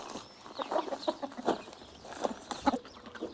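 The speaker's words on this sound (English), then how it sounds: "Feeding the chickens is my husband's job." Chickens on a farm in Mallorca clucking in short, repeated bursts, moderately close and fairly soft, with no one talking.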